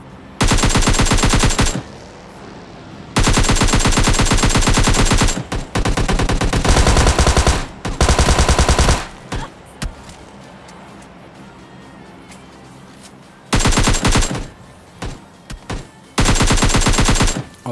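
Loud bursts of automatic gunfire from a PUBG Mobile Lite match near a stadium. They come in several long sustained volleys separated by quieter gaps of background game noise.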